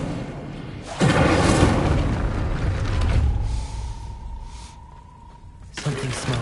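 A fire spell cast in Hogwarts Legacy bursts with a loud boom and crackling roar, trailing into a thin sustained tone before a second burst near the end.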